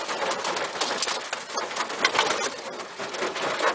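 Racing homer pigeons coo and rustle in a loft, a steady, close bed of soft bird sounds with no talk.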